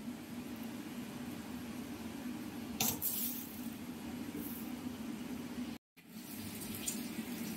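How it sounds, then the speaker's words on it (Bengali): Chicken being washed in hot water at a kitchen sink: a steady, even rush of running water throughout, with a brief clatter near the middle and a momentary cutout. "গরম জলে চিকেনটাকে ধুয়ে নিই"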